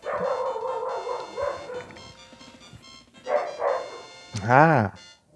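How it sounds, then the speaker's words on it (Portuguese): A dog barks in short bursts, ending in a loud, yelping bark, heard over the chiming music and effects of Super Mario World: Super Mario Advance 2, with a voice talking at times. "Começou a latir já de novo."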